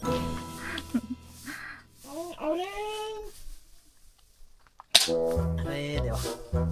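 Toy gun pellets strike a tin sheet during an outdoor game at a hill station, giving one sharp metallic crack near the end amid people talking and exclaiming.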